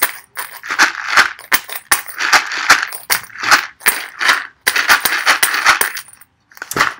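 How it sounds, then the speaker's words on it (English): A small homemade handheld shaker rattles in bursts of brisk shakes, a dry gritty swish repeated with short pauses between, close and fairly loud. "I also made a little shaker."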